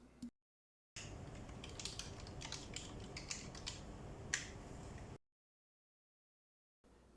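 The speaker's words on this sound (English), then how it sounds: "Let's type some words." A computer keyboard connected through a two-port USB dual monitor KVM switch is typed on in a quick, irregular run of light key clicks lasting about four seconds, close and quiet, with silence before and after.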